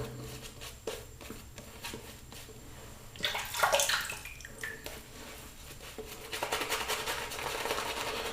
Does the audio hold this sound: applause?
no